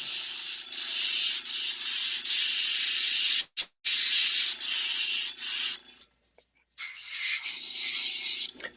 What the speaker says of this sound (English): So you just spray the black ink on there